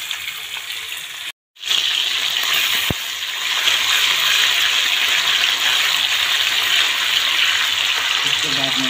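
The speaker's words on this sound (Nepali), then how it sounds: "एकतिर माछा फ्राई हुँदैछ" Fish frying in hot oil for a fish curry, a steady loud sizzle and crackle that runs almost throughout, close to the pan, with a brief dropout near the start.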